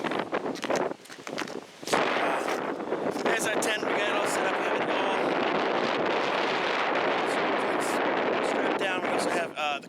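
Strong gusty wind roars and buffets the microphone on a frozen lake while an ice fishing tent is set up, with loud continuous blasts, occasional flapping thumps and people talking under it.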